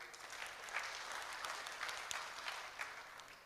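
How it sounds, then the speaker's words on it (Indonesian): Audience applause at an Indonesian village socialization event on smart villages and village law, a steady, fairly faint patter of many hands clapping throughout with no talk over it. "tepuk tangan untuk Pak Jokowi."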